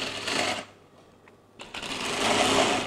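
A sewing machine stitching a child's garment hums in two bursts, one at the start and a longer, louder run to the end, with a quieter pause between.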